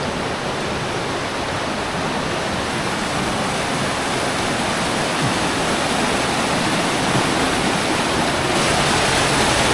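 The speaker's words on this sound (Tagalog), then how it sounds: "nag-aagos talaga yung tubig sa ganyan oh" A forest stream rushes loudly and steadily over rocks, a constant broad roar close by that holds for the whole stretch without pause.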